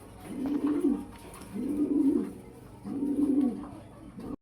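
Domestic pigeons, a fancy shorting breed kept in pairs for sale, coo in three clear, evenly spaced bouts, fairly close and steady with no talking.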